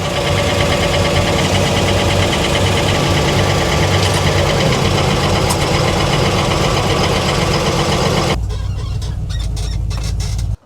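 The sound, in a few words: car engine started by push button, idling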